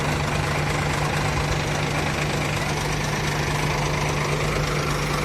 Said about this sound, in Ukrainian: але двіжок уже запустився